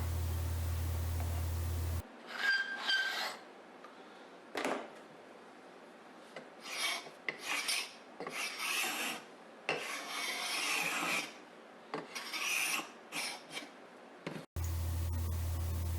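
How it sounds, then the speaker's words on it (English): A hand scraper, a glue scraper and a number 80 cabinet scraper, rasps and scrapes dried glue squeeze-out off a wooden cutting board glue-up in a series of close, irregular strokes with short pauses between them. "After each glue up, I always remove the glue squeeze out with a scraper."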